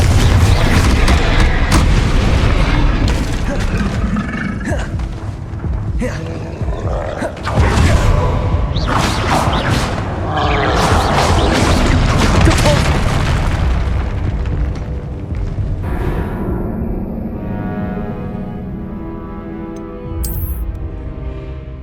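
Confringo explosion spell cast in the video game Hogwarts Legacy, a sequence of loud rumbling blasts and roaring impacts over dense battle effects, fading to a quieter tail near the end.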